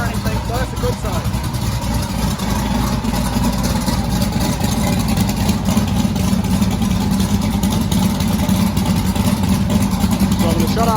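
A big-cam twin-turbo LS V8 idling in a truck, a loud, close, lumpy, uneven rumble that runs steadily throughout with slight surging, with no voices in this stretch.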